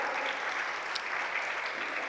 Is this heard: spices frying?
no